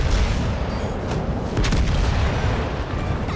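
Heavy battleship gunfire in World of Warships Legends, a Preussen facing the Colombo: a dense, continuous rumble of booming cannon blasts and explosions, loud and close, with no voices over it.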